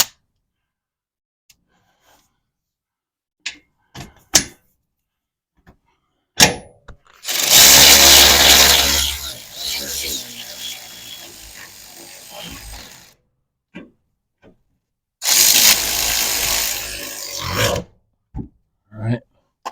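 A ratchet wrench clicks steadily in two bursts as a 19 mm bolt is snugged down on a recovery point mount, with sparse clanks and taps between and after.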